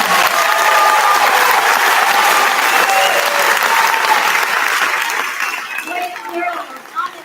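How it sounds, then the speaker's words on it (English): An audience at a kindergarten graduation claps for students who won a reading award, steady dense applause filling the room, loud and continuous before thinning out toward the end. "Let's give them a big round of applause"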